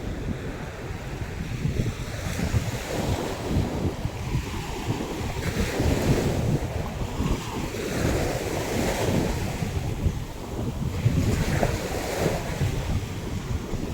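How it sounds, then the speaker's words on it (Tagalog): Strong sea waves at low tide near mangroves slosh and crash continuously, a loud rolling wash of surf with gusts of wind buffeting the microphone and no voices. "Ang problema lang medyo may kalakasan ng hampas na tubig dagat no"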